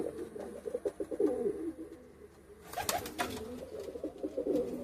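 Soft, low cooing from a pouter pigeon at a pigeon show, repeated rolling coos close by over quiet background noise with a brief rustle in the middle.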